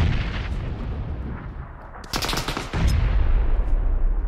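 Grenades explode during PUBG gameplay, with heavy low rumbling booms and a louder crackling blast burst midway, mixed with gunfire-like bangs.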